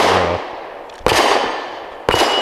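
Three sharp gunshots from a Walther WMP rifle, spaced about a second apart, each a loud close crack with a decaying outdoor echo; a brief low tone fades out before the first shot.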